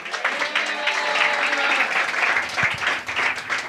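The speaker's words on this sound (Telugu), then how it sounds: "ఈ మాట విని వెంటనే మీరు గట్టిగా చప్పట్లు కొడుతూ స్తోత్రం చెప్పాలా" A church congregation clapping loudly during a pastor's sermon, dense continuous applause from many hands that swells and holds for a few seconds before thinning slightly at the end.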